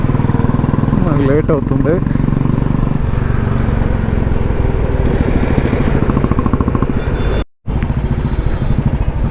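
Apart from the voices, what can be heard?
motorbike riding through traffic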